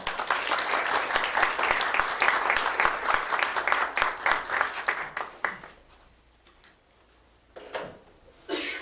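An audience applauds to welcome a speaker at a lecture forum on the creative economy and startups, dense clapping for about five seconds before fading out, then a brief scattered burst.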